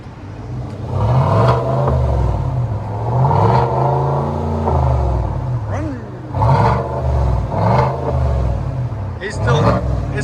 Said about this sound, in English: That damn rev limiter, that's the rev limiter. You hear that?